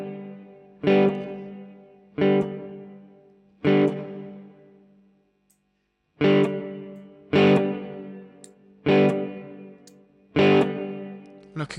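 Repeated guitar notes run through a Mvave Mini Universe reverb pedal on a lush hall setting, each struck note ringing out into a tail whose length shifts as the decay changes, with a short silent gap midway.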